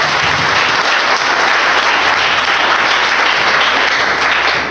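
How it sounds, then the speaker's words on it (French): Sustained, dense applause from an audience welcoming the keynote speaker at an educational talk, loud and steady throughout with no voices over it. "Nous pouvons applaudir pour notre orateur principal"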